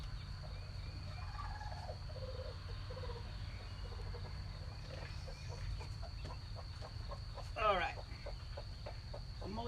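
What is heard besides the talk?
hen clucking while being lifted off eggs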